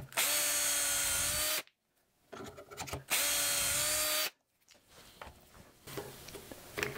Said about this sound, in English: and I drill two of my holes.